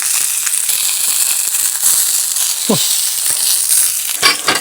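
Striped bass fillet frying skin-side down in a hot pan, a loud continuous sizzle with dense crackling pops throughout, close and without talk.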